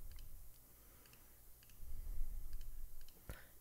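Computer mouse clicking while editing a church website, a few faint, sharp paired clicks spaced irregularly over a low background hum.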